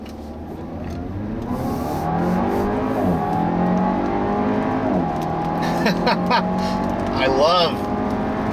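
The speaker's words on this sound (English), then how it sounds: "That dual clutch, when it shifts, it has that nice little crackle in the exhaust." Audi A4 with a dual-clutch gearbox accelerating from inside the cabin, engine note rising in steady pulls with quick gear changes and faint exhaust crackle on the shifts, while someone talks over it.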